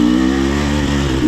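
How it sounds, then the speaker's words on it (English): A dirt bike engine on a beginner-to-intermediate trail, heard loud and close with a steady mid-pitched drone that rises slightly in revs at the end. "As always, you're on a dirt bike."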